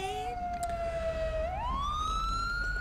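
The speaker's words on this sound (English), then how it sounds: "I'm going to turn off my siren, too." Police car siren in the video game GTA 5, a steady loud electronic wail that holds a falling tone, then sweeps upward and stays high, heard alone with no talk.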